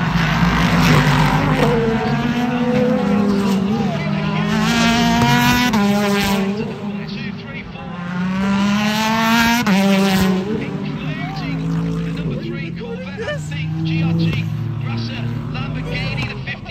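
A race car crash at a Petit Le Mans restart, with loud, roaring engines of GT and prototype race cars rising and falling, plus brief skid-like squeals. Excited commentators talk over the noise throughout.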